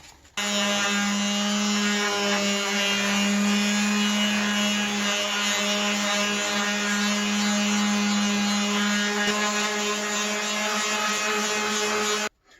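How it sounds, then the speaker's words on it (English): A power sander shapes the edge of a PVC sword blade, giving a loud, steady, continuous mechanical whine that holds unbroken for about twelve seconds with no talking. "we just need to take the power sander at a consistent angle"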